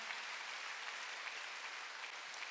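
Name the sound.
congregation applause in church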